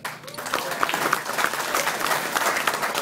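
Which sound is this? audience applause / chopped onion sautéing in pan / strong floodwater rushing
audience applause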